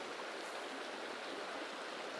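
Creek water flowing steadily in the mountains during a mule deer hunt: a soft, even rushing with no breaks, heard from a short distance.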